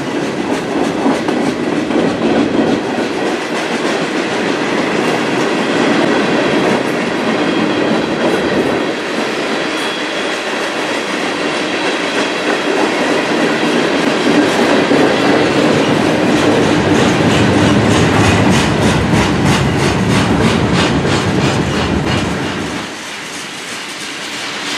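A CN freight train rolls past on the Strathroy Subdivision in Sarnia, Ontario, loud and close, its steady rumble carrying a continuous clickety-clack of wheels over rail joints that eases slightly near the end.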